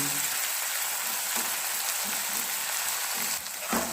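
Lotte fish fries hard in a pan in a home kitchen, giving a dense, continuous sizzle and crackle close by, steady and fairly loud, with a faint scrape near the end and no voices.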